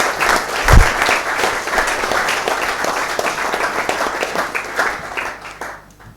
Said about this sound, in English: join me with a big round of applause for